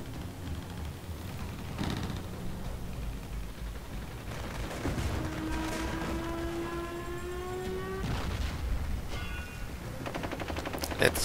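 Battle gunfire in a World War II strategy game, Total War: 1942, on the Russian front: steady rattling bursts of machine-gun and rifle fire with scattered heavier shots, a moderately distant, constant battlefield din with no talk.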